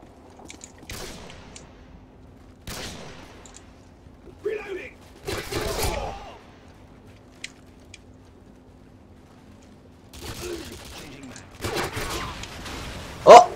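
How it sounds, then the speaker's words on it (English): Gunfire in the video game Modern Warfare 2 comes as scattered sharp shot bursts separated by quiet gaps, with one louder crack near the end, while a player talks over the action. "I just got shot from behind."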